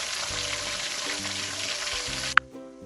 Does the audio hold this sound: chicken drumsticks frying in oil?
yes